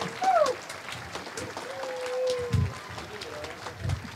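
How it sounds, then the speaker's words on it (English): Students clap for their teachers at a primary school Aladdin musical, a scattered crowd applause with voices and calls over it throughout. "Come on, students, do we clap for our teachers also who made this happen?"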